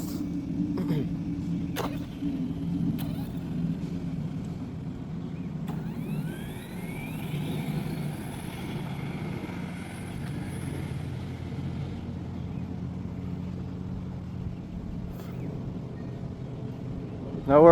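An HBX 2997A RC car fitted with a Supersonic 3650 5600kv motor and 130A ESC makes a speed run on 3S-4S power, giving a rising electric whine over a steady low rumble at a moderate distance.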